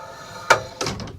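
A mirrored sliding closet door in a 2019 DRV Mobile Suites RV bedroom rolls along its track, ending in a sharp thunk, followed by a few softer knocks and rattles close by.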